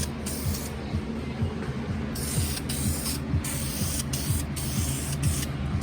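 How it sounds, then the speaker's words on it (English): Continuous hiss of a spray can laying primer onto a 1990 Mustang GT quarter panel, close and steady with slight flutters, a low mechanical rumble underneath. "Put some more primer on this thing."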